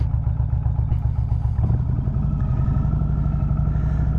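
A motorcycle putters along at low speed through a slow-race practice drill, its mid-pitched engine running steadily and close by with a faint clatter, alone without talk.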